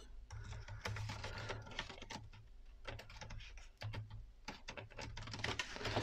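Keys tapped on the cheap plastic keyboard of a PhoneBook Anyware lapdock, a fast irregular stream of light clicks and clatters running steadily throughout, close and fairly quiet with no talking.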